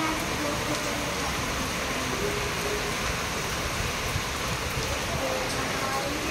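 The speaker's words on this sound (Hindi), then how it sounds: "देखिए बारिश में नेहा जा रही है नहाने।" Heavy rain pours down steadily outdoors in a dense, unbroken hiss across the whole stretch, loud and constant, with a voice faintly audible beneath it.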